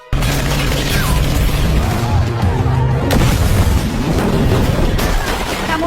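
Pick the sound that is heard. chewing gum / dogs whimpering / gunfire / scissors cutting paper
gunfire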